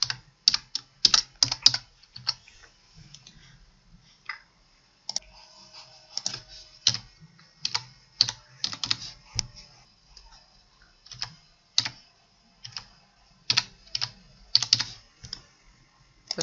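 Someone types with one hand on a computer keyboard, producing close, irregular bursts of clicking keystrokes separated by short pauses, with no talking.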